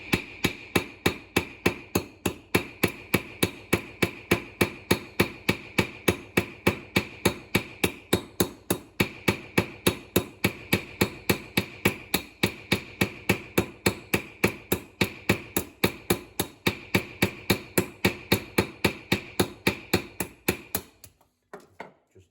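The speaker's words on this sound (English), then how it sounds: "slowly just start working my way around the edge to start creating a mushroom" Steady, evenly spaced hammer blows strike a rivet head to mushroom it over, dozens of sharp metallic knocks in a quick regular rhythm, loud and close, stopping near the end.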